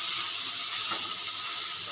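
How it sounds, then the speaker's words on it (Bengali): Prawns sizzling lightly in hot oil in a pan, a steady soft broadband hiss of frying that runs evenly throughout, close and moderately quiet with no talk. "এর মধ্যেই দিয়ে দেবো চিংড়ি মাছটা। চিংড়ি মাছটাও হালকা ভেজে নেব।"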